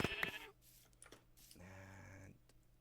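Sheep in Minecraft bleat in short, quiet calls, a brief bleat at the start and a longer wavering one later, separated by faint clicks and game sounds.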